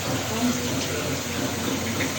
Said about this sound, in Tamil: தண்ணி ஃபுல்லாக இதே மாதிரி தான் வரும், கொஞ்சம் கொஞ்சமாக தான் வரும்